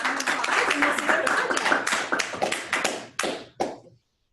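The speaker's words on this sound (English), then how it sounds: "So let's give a round of applause" Audience applause at a student demo day, a dense burst of many clapping hands close to the listener that thins out and ends in a few last scattered claps after about four seconds.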